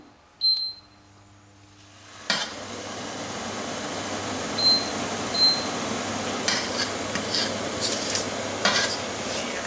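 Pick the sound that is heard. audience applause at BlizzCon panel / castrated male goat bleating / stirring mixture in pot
stirring mixture in pot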